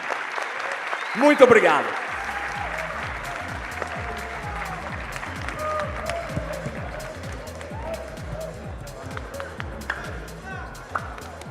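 Audience applause for panelists at the close of a liberty and democracy forum in Belo Horizonte, with a brief spoken thank-you near the start and steady clapping that carries on through the rest.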